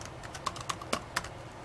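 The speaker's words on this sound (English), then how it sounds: "let me type my very secure password" Several soft keystrokes tapped on a computer keyboard while entering a password, light irregular clicks spaced about a quarter second apart over a quiet background hiss.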